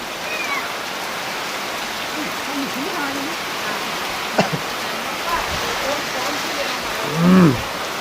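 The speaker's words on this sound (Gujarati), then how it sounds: "અત્યારે જો ધમધોકાર વરસાદ ચાલુ થઈ ગયો છે" Steady heavy rain hisses as a dense wash of noise throughout, with faint animal-like calls and a brief thump partway through.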